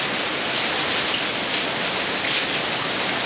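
Heavy afternoon rain pours down steadily in Khon Kaen, Thailand, during the rainy season, a dense, continuous hiss of drops hitting surfaces with no pauses or voices.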